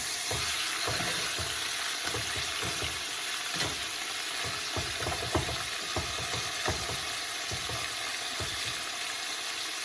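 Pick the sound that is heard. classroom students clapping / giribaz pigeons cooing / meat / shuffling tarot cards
meat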